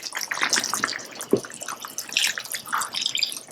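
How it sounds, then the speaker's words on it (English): Water poured into a cooking pot of simmering sazon chicken, a steady splashing pour running throughout with one brief louder splash partway through, close and alone without talk. "I'm going to add 2 more cups of water."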